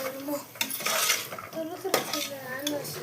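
Beans, carrots and peas being stirred in a pan: a spoon scrapes and clinks against metal in short irregular strokes, with quiet sizzling underneath and a voice talking over it.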